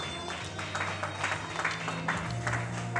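A graduation audience claps again, a short burst of moderate crowd applause with a few individual claps standing out, steady and without voices.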